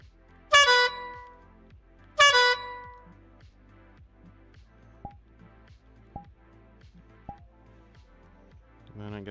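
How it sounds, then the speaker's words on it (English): A handheld horn honked twice, close and loud, two short bright blasts about a second and a half apart, followed by quieter clicks and squeaks. "Got a horn."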